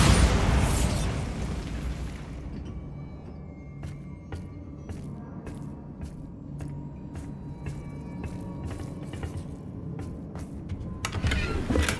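Bombarda spell explosion in Hogwarts Legacy, a loud booming blast at the start that decays into a low rumble, followed by scattered sharp clicks and ticks and a swell of noise at the end.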